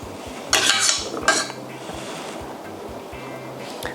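A spoon clinks against dishes while coconut topping is dropped onto cups of Thai tako sago dessert with water chestnut, a few close metallic taps over a steady low hum.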